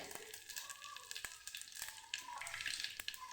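Dry red chillies and curry leaves crackle in a small pan of hot oil with cumin, a faint, steady sizzle broken by a few sharp spatters and taps.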